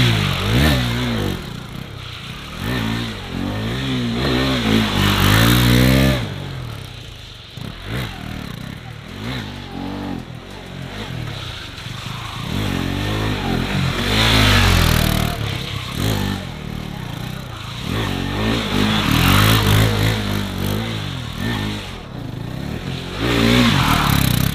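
A 2022 KTM RC 390 motorcycle engine revs hard and fluctuates in pitch during a drift attempt on grippy tires, loud and close, with rising and falling surges throughout.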